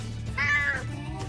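A male cat lets out one clear, whiny meow up close, lasting about half a second, over a faint steady background hum.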